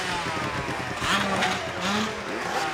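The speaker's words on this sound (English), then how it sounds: "Big four-stroke firing up right now." A big four-stroke motorcycle engine at a motorcycle club hillclimb fires up and revs, with rising and falling engine tones over crowd ambience, while someone talks over it.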